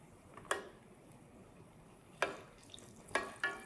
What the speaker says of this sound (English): These are frying up